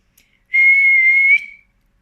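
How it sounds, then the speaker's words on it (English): A man's single sustained, high-pitched whistle to his dogs, lasting about a second, loud and clear, then fading out. No other sounds. "He whistled to his dogs and set off after them"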